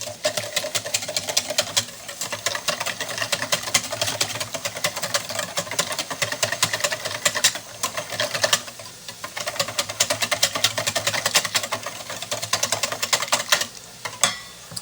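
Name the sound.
whisking quiche base ingredients in a bowl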